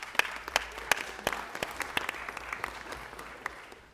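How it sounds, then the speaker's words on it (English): Applause from an audience at a Los Angeles council meeting, a steady wash of many hands with sharper individual claps standing out, moderately distant and gradually fading toward the end. "Can we please give them a big round of applause?"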